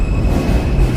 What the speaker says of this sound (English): The J train runs here.